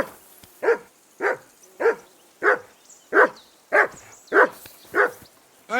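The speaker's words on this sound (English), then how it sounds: "Hey, call off that dog and then we can talk." A dog named Mutt barks in Kingdom Come Deliverance 2, nine loud, sharp, evenly spaced barks close by, each about half a second apart, with quiet gaps between them.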